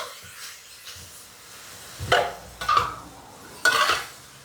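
Pork and vegetables being stir-fried in a pan over a low hiss, with three distinct scraping clatters of a utensil against the metal at close range and no talking.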